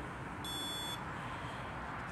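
A single electronic beep from a handheld ghost hunting device rings out clearly for about half a second over a steady hiss of room noise.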